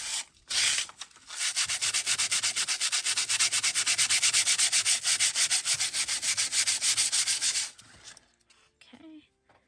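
Rapid, even back-and-forth scrubs of sandpaper over junk mail paper laid on a bare surface, loud and close, a rhythmic rasp running steadily for several seconds after a short burst, then stopping into near silence.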